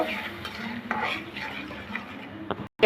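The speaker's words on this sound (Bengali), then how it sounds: "ভালো করে নেড়ে চেড়ে মশলাটা এখন কষিয়ে নেব" Spices stirred and fried in a pan while cooking a shrimp and potato curry, with soft scraping strokes of a spoon and a low steady sizzle, close and quiet, ending in a brief clatter.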